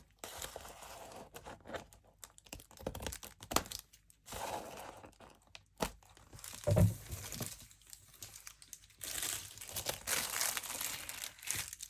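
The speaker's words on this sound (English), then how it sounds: "So let's just trim off these edges here." Edges of a journal cover being trimmed, giving crinkly, tearing, crunching bursts at an uneven pace, close by and moderately quiet, with no talking.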